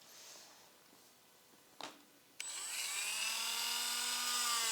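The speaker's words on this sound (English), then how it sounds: "I'm marking while the grinder is grinding the nail" A rotary nail grinder whirs steadily against a dog's nail after a brief click, a close, high-pitched buzzing that holds for several seconds in a quiet room.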